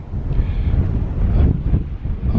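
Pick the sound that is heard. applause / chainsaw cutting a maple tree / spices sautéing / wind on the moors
wind on the moors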